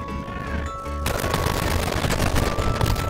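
Rapid bursts of gunfire in the mobile shooter Warzone Mobile, a dense, loud volley that swells after a quieter opening moment and keeps rattling steadily to the end.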